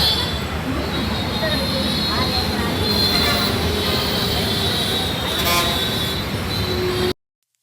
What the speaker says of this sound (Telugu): Metro జతీష్ జతీష్ metro పోరాం right.